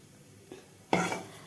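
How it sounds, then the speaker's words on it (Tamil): A metal cooking pot is picked up and set down over cooked rice in a home kitchen, giving a soft knock followed by one louder, ringing clank close by. "அப்புறம் சாதத்தை மூடுறதுக்கு வேறு ஒரு பாத்திரம் எடுத்துக்கிறேன்."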